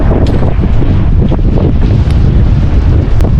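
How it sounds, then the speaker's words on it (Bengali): Loud, constant wind on the beach at Cox's Bazar buffets the microphone in a continuous roar, with no voices. "অতিরিক্ত বাতাস"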